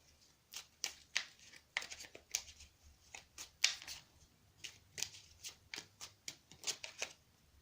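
Tarot cards are shuffled and drawn, close and quiet, with a string of crisp riffling and flicking bursts in an irregular rhythm, and faint speech at moments.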